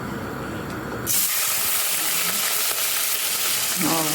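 Rice sizzles steadily in hot oil, a loud continuous frying hiss that kicks in sharply after a quieter start and keeps crackling.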